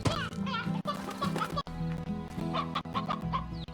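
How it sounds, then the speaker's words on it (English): Hen clucking in the video game Slime Rancher, a few short game-bird clucks over steady background game music. "Oh, we have one more hen."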